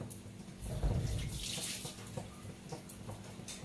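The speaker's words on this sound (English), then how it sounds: "I'll wash my hand." Hands being washed under a running kitchen tap, a soft, close, continuous splash of water with small shifts as the hands move through the stream.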